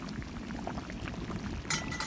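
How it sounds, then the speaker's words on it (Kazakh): Lagman stew bubbles steadily in a kazan, a close, continuous low boil with a soft metallic clink near the end. "Міне осылай қазанымыз әдемі қайнап жатыр."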